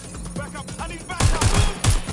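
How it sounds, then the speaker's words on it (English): Gunfire in the Watch Dogs Legion video game: scattered shots at first, then loud, dense bursts of rapid fire from about the midpoint on. "They're shooting at us!"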